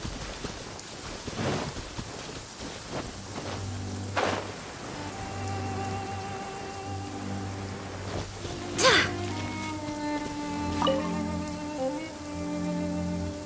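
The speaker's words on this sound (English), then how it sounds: "The rain won't slow me down." Steady rain falling around an abandoned temple in a video game, a continuous soft hiss that runs beneath tonal music and a few scattered louder hits.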